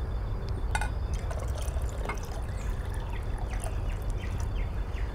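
Banana peel tea and water are poured together for dilution, a continuous close trickle and splash of liquid into a container with faint clinks, no voices.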